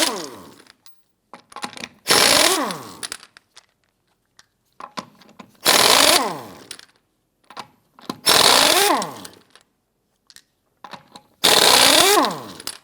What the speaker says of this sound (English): We want to go ahead, loosen, and remove these lug nuts.